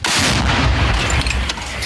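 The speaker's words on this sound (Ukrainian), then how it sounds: "Постріл!" A loud, booming gunshot blast right up close, its heavy rumble filling the whole moment without any voices.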